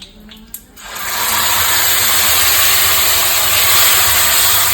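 Ground gongura hits a hot tempering of red chillies and asafoetida, setting off a sudden, loud, sustained sizzle and steamy hiss after a brief quieter moment and a small clink.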